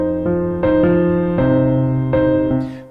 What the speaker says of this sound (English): But if I change that to overdrive